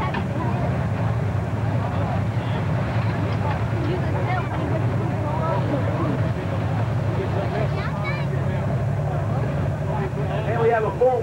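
The brand new Insanity super farm tractor roaring in a continuous heavy engine drone during a tractor pull in Shepardsville, Kentucky, loud and sustained, with an announcer talking over it.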